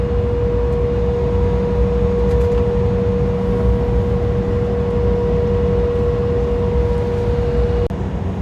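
Jet engine roar from a Star Air airliner accelerating down the runway for takeoff on a Pune to Nanded flight, a loud steady broadband rush with a sustained whine, heard from inside the cabin throughout.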